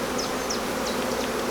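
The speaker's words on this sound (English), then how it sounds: "the Welsh black bees, like I like to call them. They're actually European black bee." European black bees buzz around an open hive during a midsummer inspection, a dense, close, continuous drone with a few higher buzzing passes as individual bees fly near.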